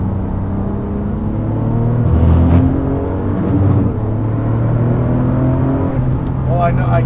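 Porsche 997 GT2 RS engine droning steadily from inside the cabin while driving, a low rumble that swells briefly around the middle, with a voice talking over it.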